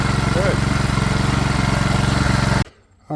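Small engine revived from an old project, running warm with a steady, loud, chugging putter and an even pulse, which cuts off abruptly near the end.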